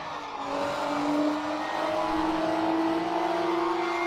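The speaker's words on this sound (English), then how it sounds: "that M2 sounds good" A BMW M2 engine in the Assetto Corsa racing game drones steadily at high revs, a continuous loud engine tone with a gently rising pitch across the whole stretch, no voices over it.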